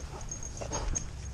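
A puppy whimpers softly in short, faint whines amid sniffing and low background rumble, heard close on a farm during morning chores with duck eggs being collected.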